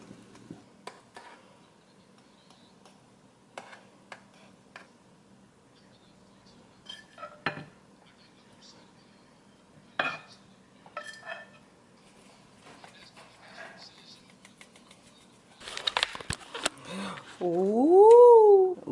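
Pots, pans and utensils clink and knock sparsely in a quiet kitchen while shrimp and grits are cooked, with scattered single clatters, a louder burst near the end and brief voice sounds.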